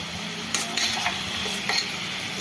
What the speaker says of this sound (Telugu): పసుపు వేసుకుని ఉల్లిపాయ ముక్కలను బాగా కలుపుకుని బంగాళదుంప ముక్కలు కూడా వేసేసుకుని